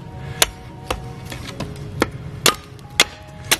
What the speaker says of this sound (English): ELCHETE, a little bit heavier, kind of makes for a smoother cut